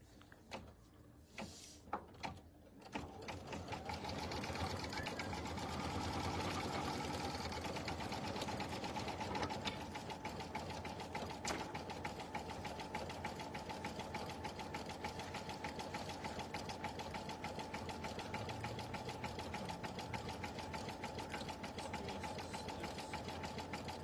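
Sewing machine stitching a mini quilt, a steady fast mechanical whir running continuously for about twenty seconds after a few short stop-start bursts at the beginning, close and fairly quiet, with no talking.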